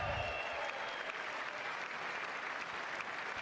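Sustained applause fills a Congress chamber, a broad, even wash of many hands clapping, steady and fairly distant, with a voice heard briefly at the start.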